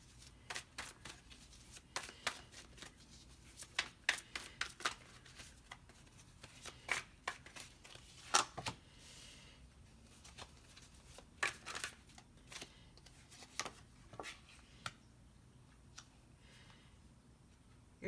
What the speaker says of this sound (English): For some reason, I feel like pulling a couple more cards for this.